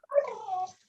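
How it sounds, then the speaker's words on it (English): A dog lets out a single short, meow-like vocal call, rising and then trailing off within about a second, fairly close and clear with nothing else around it. "Wow, that dog sounds like it's meowing."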